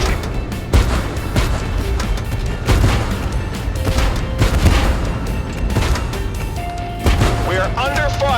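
Artillery bombardment and gunfire rumble through a tank battle in Tank Force on Renaissance Island, with repeated heavy booms and cracking shots over a dense, continuous roar of combat, and voices are heard amid the barrage.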